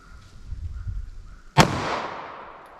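A single sharp 9mm pistol shot fired into ballistic gel with Remington Golden Saber ammunition, loud and close, its crack trailing off in a short decaying echo after a low, quiet stretch.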